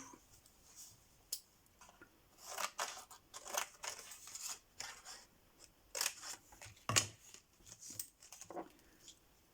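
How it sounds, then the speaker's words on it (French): Scissors snip through embossed wall-textured paper in a craft setting, a series of quiet, crisp cuts in irregular bursts with pauses between them, heard close up without speech. "J'ai un papier comme ça embossé façon mur que je vais utiliser, que je vais découper"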